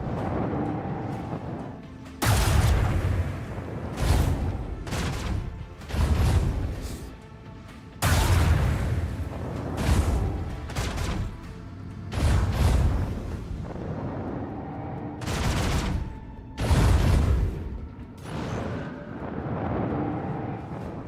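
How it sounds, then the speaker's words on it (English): Torpedo launches and weapons fire in a space combat video game, a series of heavy booming blasts and bursts coming in irregular clusters with short lulls between, loud and close. "Commence torpedo launch!"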